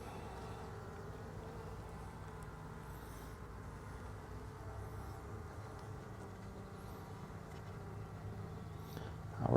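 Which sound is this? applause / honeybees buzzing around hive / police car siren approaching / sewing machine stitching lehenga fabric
honeybees buzzing around hive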